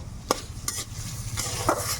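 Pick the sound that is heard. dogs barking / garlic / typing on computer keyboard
garlic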